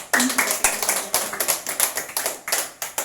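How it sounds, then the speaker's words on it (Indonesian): A small parish group in a circle claps their hands together, sharp, close claps in a loosely rhythmic burst with a little murmuring between them. "Ayo tepuk tangan dulu"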